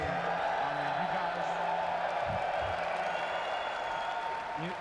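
A live crowd at a Call of Duty League Major esports event in Birmingham keeps up a constant roar of cheering and applause, heard under someone speaking over it.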